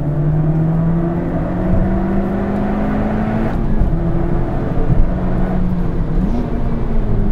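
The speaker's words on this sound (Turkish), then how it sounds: "Şarjörün sesini, yani kompresörün sesini direkt duyuyorsunuz." A supercharged 212-horsepower Toyota Yaris GRMN accelerates with a rising whine over the engine drone, pitch climbing through the gears with brief dips at shifts, heard from inside the car.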